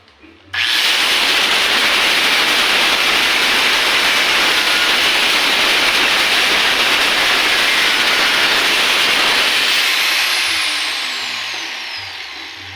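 A power tool cuts steadily through a piece being shaped into a clamp for a homemade tiksay holder, a loud continuous whine starting abruptly and running about ten seconds before tapering off, with no talk over it.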